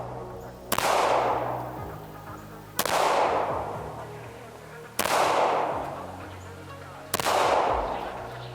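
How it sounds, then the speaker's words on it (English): Four sharp handgun shots from a CZ SP-01 ring out about two seconds apart, each a loud crack followed by a decaying echo off the range. "I'm already shooting this one faster and more accurate than I am with the compact."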